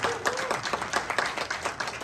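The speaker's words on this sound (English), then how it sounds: "give yourself a round of applause" An audience at a motivational talk claps, a dense burst of many hands applauding at once, loud and sustained for a couple of seconds.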